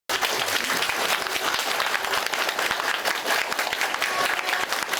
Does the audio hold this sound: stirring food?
no